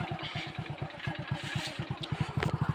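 A motorcycle engine thrums with a low, rapid, even pulse during a ride, moderately loud and close, with light rattles and wind noise on top.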